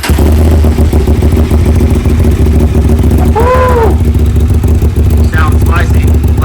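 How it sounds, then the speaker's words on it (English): A Honda Transalp XL750 fitted with an SC Project exhaust and aero headers idles loud and close with a steady throb, and someone speaks briefly over it midway. "got the SC Project exhaust mounted up. See what it sounds like with the aero headers."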